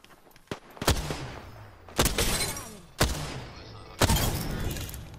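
Gunfire in Apex Legends rings out as four heavy, evenly spaced shots about a second apart, each a sharp loud crack with a short echoing tail, preceded by a couple of fainter pops.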